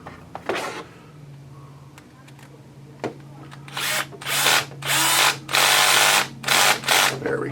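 A power drill with its clutch set light drives screws into plastic-to-plastic parts on an Axial Yeti XL RC build, heard as several loud, short whirring bursts close up after a few clicks and handling noises.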